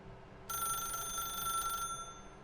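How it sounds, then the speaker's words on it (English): A telephone rings in the video game The Stanley Parable, a bright electronic trill that starts suddenly after a quiet moment and holds steady before cutting off, alone without talk. "then pick up the phone."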